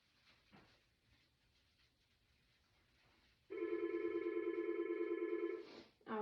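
A house telephone rings steadily for about two seconds in a living room, loud and electronic with evenly sustained tones, following a stretch of quiet background shuffling and ending in a brief sharp rattle.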